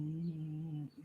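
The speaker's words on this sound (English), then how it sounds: "I hear the birds out there now." Outdoor birds coo softly in a low, sustained tone, faint and steady, briefly dipping near the end.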